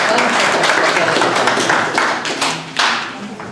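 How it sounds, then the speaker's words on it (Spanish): Audience applause at an intercultural education session, a dense burst of close hand clapping that carries through without a break and eases slightly toward the end. "Fuerte palmas."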